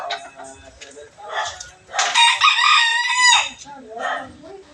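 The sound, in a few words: rooster crowing with a hoarse crow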